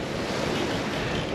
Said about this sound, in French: Les vagues nous arrivent de l'avant tribord.